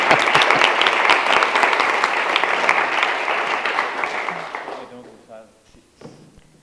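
Audience applause at a youth literary gathering, a full burst of clapping that holds strong for several seconds, then thins out and fades into a quieter room where a voice and a few stray sounds follow.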